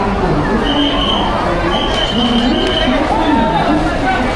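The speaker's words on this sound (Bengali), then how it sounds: "আর দেখো মানুষ কীভাবে হুড়োহুড়ি করে ট্রেনে উঠছে" A dense crowd at Howrah station rushes to board the Howrah–Mathura Chambal Express general coach, a loud, constant babble of many voices and shouts with a whistle-like tone running through it.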